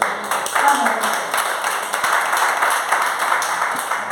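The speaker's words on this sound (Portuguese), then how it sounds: "Palmas para Jesus," Church congregation at a Brazilian Portuguese sermon claps together for Jesus, a steady spread of applause filling the room with voices and shouts mixed in.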